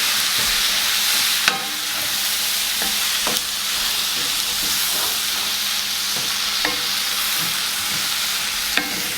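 Tomatoes are stirred into a bubbling hamburger and French fry casserole sauce in a pan, producing a loud steady sizzle with several sharp utensil scrapes and knocks against the pan, close up and without speech.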